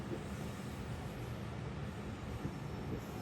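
The Shalimar Express stands at Gojra railway station, giving a low, steady rumble of idling rail cars with faint background noise and no talk.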